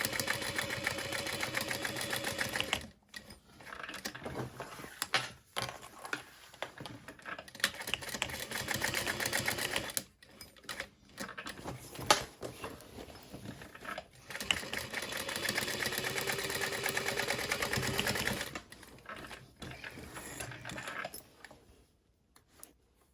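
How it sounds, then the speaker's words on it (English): A sewing machine runs an accent stitch along a fabric sling bag in several close, buzzing bursts of rapid stitching, stopping and restarting between pauses, with the final run trailing off at the end. "And I'll add an accent stitch, because why not?"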